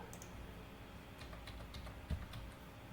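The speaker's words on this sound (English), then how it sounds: "we can type units in the command bar" A computer keyboard is used to type a command into the AutoCAD command bar: faint, quick key clicks over a low steady hum, ending with one firmer keypress.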